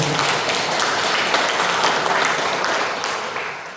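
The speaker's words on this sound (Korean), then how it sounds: "강남 바다해결 코미션 소속에 서기 박수 한번 쳐주세요" Audience applause for the secretary at a church Legion of Mary curia training session: a dense, steady burst of many hands clapping, loud and close, tapering slightly at the end.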